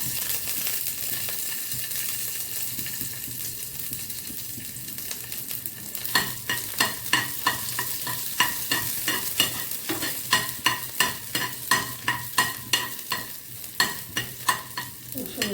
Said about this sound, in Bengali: প্রথমে আমি 3টে কাঁচা লঙ্কা একটু ফাটিয়ে মাঝখানে কেটে ফোড়নে দিয়ে দিব।